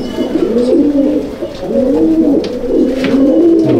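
Teddy pigeons in a loft give repeated close, loud cooing phrases, three rolling coos in a steady rhythm with faint rustles between them.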